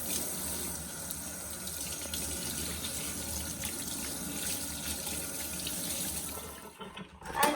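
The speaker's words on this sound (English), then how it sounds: "I'm gonna help my mom wash the dishes." Tap water running steadily into a kitchen sink while a child helps wash dishes, a continuous close splashing rush with faint clinks, ending with a brief knock.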